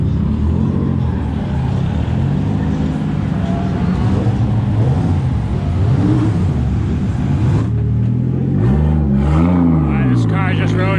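A 2JZ-swapped Nissan S14 is heard from inside the cabin, its engine droning steadily before a rising, revving sweep near the end, with voices talking over it.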